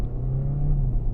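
An Audi Q3 45 TFSI e plug-in hybrid's engine runs roughly with a steady low rumble and hum, close and alone for a brief moment.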